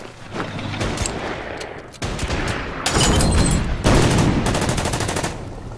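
Gunfire and explosive booms from the WWII strategy game Order of Battle: Winter War, a fortress battle on the Karelian Isthmus, with dense crackling volleys that swell louder midway and hold steady through the end.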